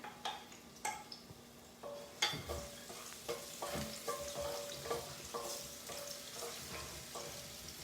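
Two tablespoons of minced garlic sizzle in a frying pan, a soft bed of crackle broken by repeated light taps and stirring clinks of a utensil against the pan, fairly quiet and close.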